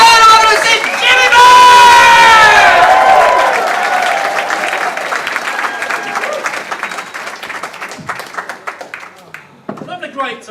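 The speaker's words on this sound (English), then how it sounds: "We're going to start off with a base level of applause. A little bit more applause. A little bit of whooping. A little bit of cheering." A street-show audience in Covent Garden bursts into loud applause with whoops and cheers. The roar peaks in the first few seconds, then fades to scattered clapping as a voice talks over it.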